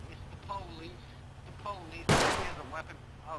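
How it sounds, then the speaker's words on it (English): Video game gunfire inside the mayor's house during a police raid: one sharp, loud burst cuts through partway, with voices talking before and after it. "shots fired, shots fired"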